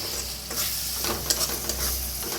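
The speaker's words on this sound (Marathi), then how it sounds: "टमाटर बरोबर कोथिंबीर बी भाजून घ्यायची" Tomato and coriander roasting in a pan over tempered spices, a close, steady sizzle broken by quick scraping stirs of a spatula, with no voices.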